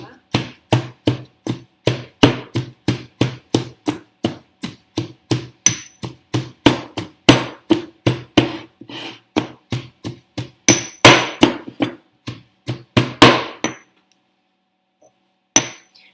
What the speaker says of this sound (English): So mush this down with your pestle and mortar.